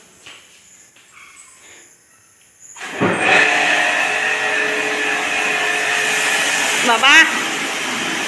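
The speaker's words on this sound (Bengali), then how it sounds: "এই যে এখানে মেশিন লাগিয়ে এই যে ধোয়া চলছে।" A washing machine runs through a wash cycle, a steady loud whirring drone that starts after a few seconds of quieter room sound, with a brief voice heard over it.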